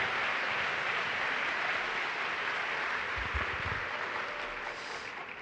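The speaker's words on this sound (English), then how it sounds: "Please, huge round of applause to welcome Alfonso to your own city." A large audience at the opening ceremony of the Erasmus Generation Meeting in Seville 2024 gives dense, sustained applause to welcome a speaker, loud and even throughout with no talking over it.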